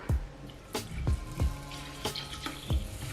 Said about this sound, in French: Et là du coup on va rajouter de l'eau.